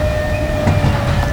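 Working reproduction of Stephenson's Rocket steam locomotive running on rails, a loud close rumble with rhythmic wheel clatter and a steady high tonal whine.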